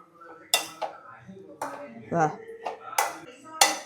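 Chicken and onion are stirred in a pan, with a utensil clanking sharply against the metal in several separate knocks, and a voice talks softly between them.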